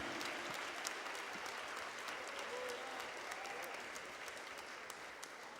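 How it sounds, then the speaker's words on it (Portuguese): A church congregation breaks into sustained applause during a worship service, dense clapping holding steady with faint voices and cheers mixed in. "A salva de palmas para Jesus, irmãos."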